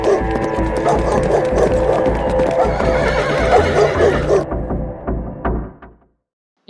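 A horse whinnies loudly several times over a steady clip-clop of hooves, close and busy, before the sound cuts off abruptly into near silence.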